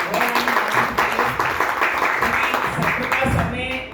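Loud, dense audience applause fills a hall during an awards-style recognition event, steady clapping throughout with voices mixed underneath.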